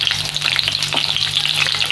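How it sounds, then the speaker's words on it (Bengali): Washed eggplant in hot oil gives off a loud, continuous, crackling sizzle, close up and with no voices. "তেলটা গরম হয়ে গেছে, ধুয়ে রাখা বেগুনটা দিয়ে দেবো।"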